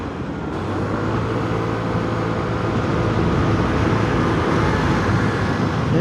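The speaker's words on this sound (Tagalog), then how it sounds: "Yung maraming sasakyan." Heavy road traffic rolls past a Vespa scooter riding fast on the C5 road, a dense, steady roar of engines and tyre noise that stays loud and constant throughout with no talk.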